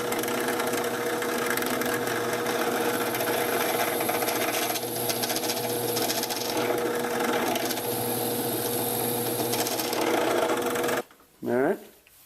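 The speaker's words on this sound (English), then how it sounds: "we'll just drill a hole in here, drop this in there, and we'll crazy glue it in there" A drill bores a hole into a wooden crankbait fishing lure, a long continuous buzzing whir with slight shifts in pitch that stops near the end, followed by a brief voice.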